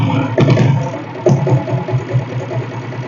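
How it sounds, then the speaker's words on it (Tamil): Royal Enfield Bullet motorcycle electric self-start followed by a steady, close, thumping idle with short bursts of throttle, no talk. "ஃபஸ்ட்டு செல்ஃப் போட்டு காட்டுறேன்."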